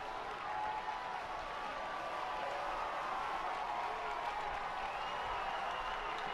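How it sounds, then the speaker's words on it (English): Stadium crowd at a college football game between UCM and Pittsburg State at Walton Stadium, a steady, broad roar of cheering and noise late in the first quarter, sustained throughout at a distance with no clear individual voices. "it sounds like the crowd here at Walton J Stadium is electrified"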